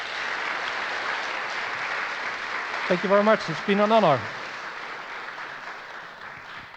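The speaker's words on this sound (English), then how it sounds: "can we give another round of applause for Bastiaan?" A conference audience claps for a speaker, a steady, moderately loud wash of applause that continues throughout while someone briefly speaks partway through.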